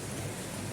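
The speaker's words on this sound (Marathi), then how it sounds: "तर आज आमच्या इथं खूप जोराचा पाऊस सुरू झालाय" Heavy rain pours down in a steady, even hiss that sounds faint and somewhat distant, with no distinct drops or voices standing out.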